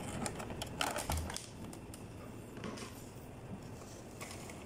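An Epson M200 printer runs after a power supply replacement, giving a steady mechanical whirring with rapid clicking and rattling, fairly close and continuous with no talk.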